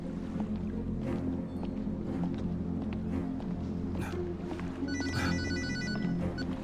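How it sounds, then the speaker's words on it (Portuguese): A telephone rings with a repeated electronic trill toward the end, heard over a constant low engine-like rumble and background noise, with no speech. "Atende esse telefone."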